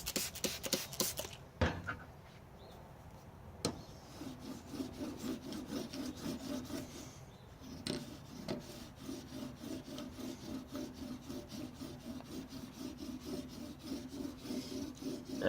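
A chisel being sharpened on an 800 grit sharpening stone, a close, soft rhythmic rasping as the blade is pushed back and forth in steady strokes, with a few sharp knocks at the start.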